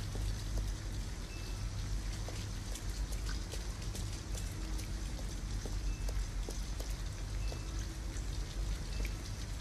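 Rain falling steadily outside an abandoned house in the video game Detroit Become Human, a dense even patter with scattered sharper drips, continuous and moderately loud with no voices.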